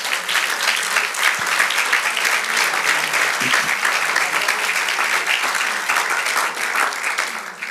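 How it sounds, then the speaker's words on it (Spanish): Steady, loud applause from a church congregation during a Spanish-language sermon, many hands clapping in a continuous dense wash that holds for several seconds without speech. "Aleluya, dale el aplauso."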